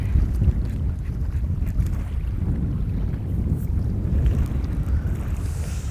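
Strong wind roars steadily across a small fishing boat out on open water while bass fishing, a dense, constant low rumble of gusts buffeting the microphone, loud and close, with no voices.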